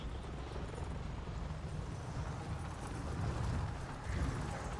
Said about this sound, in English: before we have to jump out of the helicopter